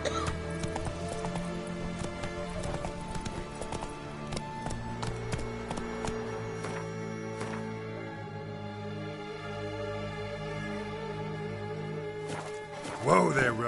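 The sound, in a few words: horse Roach galloping hooves, The Witcher 3 video game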